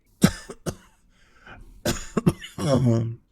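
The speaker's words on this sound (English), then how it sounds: "Father, your cough is back." A man coughs a few times in short harsh bursts in The Oregon Trail video game, followed by a strained, throaty vocal sound.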